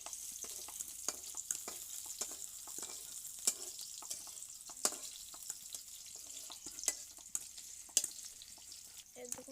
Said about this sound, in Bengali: এখন আমি নাড়াচাড়া করে দিব পেঁয়াজ